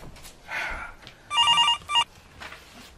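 A telephone rings in the early morning hours, a loud electronic bell trilling in a quick burst followed by a shorter second burst, with quiet room noise around it.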